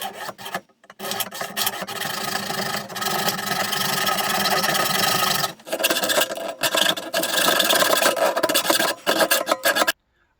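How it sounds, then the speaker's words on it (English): Hand blade sawing through wood pieces, a loud, steady rasping stroke that continues in long runs, broken by a few brief pauses and a stop at the end. "The three pieces are separated and I'm going to start cutting them."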